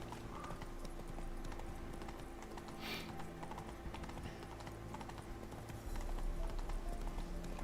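Hooves of the horse Roach clip-clop at a steady riding pace in The Witcher 3, a rhythmic run of hoofbeats under faint background game ambience.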